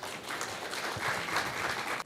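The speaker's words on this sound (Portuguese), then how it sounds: "Uma salva de palmas," An audience bursts into sustained applause, many hands clapping together in an even, full wash of sound.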